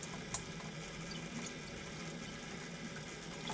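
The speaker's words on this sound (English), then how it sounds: "Kind of wash it off, rinse it off." Water rinsing rust off a trailer, a steady, even hiss and splash of spray running throughout at close range, with no talking.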